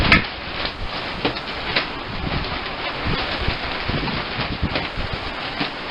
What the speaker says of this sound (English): It's a little windy down at the lake tonight.